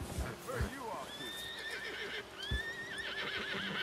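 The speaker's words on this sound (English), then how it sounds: "Come on, horse." Horse whinnies and neighs on a mountain trail in a Red Dead Redemption 2 game scene, with rising tonal cries over a steady outdoor bed and a couple of dull hoof thumps, fairly close.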